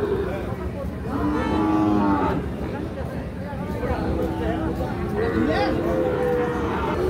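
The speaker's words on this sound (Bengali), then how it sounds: "এ জোড়া শাহিওয়াল" Young Sahiwal bull calves, about seven months old, moo loudly at a busy village cattle market, with several long drawn-out calls rising over a constant crowd babble.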